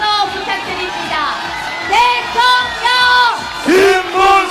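A crowd at a Korean presidential election campaign rally in Yeongcheon shouts and chants in loud, rhythmic bursts, voices rising together in repeated cheers close by.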